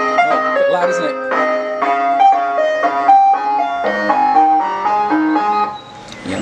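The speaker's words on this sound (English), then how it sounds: "Here comes the ice cream van." An ice cream van passes, its melodic chime tune playing loud and close, a steady jingling melody that fades slightly toward the end; a faint vehicle engine runs underneath.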